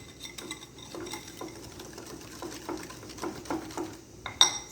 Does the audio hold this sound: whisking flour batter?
yes